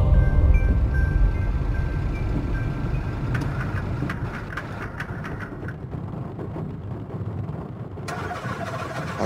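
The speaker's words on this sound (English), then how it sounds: "Sounds like this person's having a real hard time starting their car." A car engine in the video game Invitationem struggles to start, cranking and sputtering with a low rough churn that rises and falls, then catches into uneven revving, loud and close with no voices.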